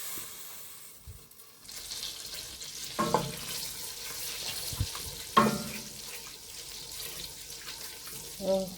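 Unsalted butter going into a hot pan for pan-seared salmon with lemon browned butter sauce gives a steady, soft hiss, broken by a few light clinks and knocks of cookware.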